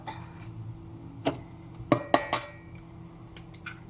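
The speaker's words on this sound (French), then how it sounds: "Alors, je mets mes œufs." Eggs cracked against a bowl for a Halloween cake batter give a few sharp, close clinks and taps, spaced apart in a quiet kitchen.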